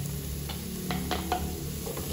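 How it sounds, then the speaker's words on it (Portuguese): Ground bell pepper and pimenta-de-cheiro sautéing in a pot for beans with maxixe and okra: a steady, soft sizzle with a few brief stirring scrapes near the middle, without talk. "Aí eu vou botar aqui para refogar também"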